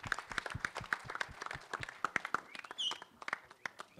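At the Action Jackson trailer launch event, a crowd applauds actor Ajay Devgan with a sparse, uneven scattering of claps and thumps, joined by a brief voice and a short tonal sweep near the end.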